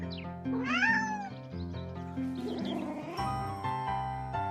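A kitten meowing, a rising and falling mew at the start followed by further tonal cries over a soft sustained musical background.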